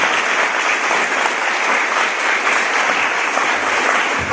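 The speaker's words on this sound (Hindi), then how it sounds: "तो हमेशा अपनी करतल ध्वनि के साथ इन सारे बच्चों का अभिवादन करने के लिए जोरदार तालियां" Loud, dense applause from an audience at a coaching institute student event, steady and continuous throughout with no speech over it.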